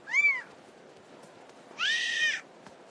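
Cats at the Grand Bazaar in Istanbul give two clear meows, a short one and then a longer, louder one, close by over a faint murmur of background noise.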